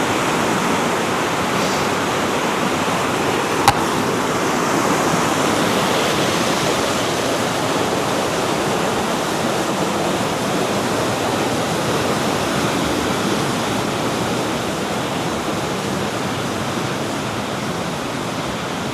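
The River Valency in Boscastle rushes past in flood, a steady, loud broadband roar of fast water with no talk, briefly marked by a single small knock.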